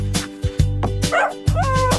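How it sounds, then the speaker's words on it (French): A dog gives several soft, happy yips and short barks in quick succession over light background music, close and clear. "le chien aboyait doucement et joyeusement"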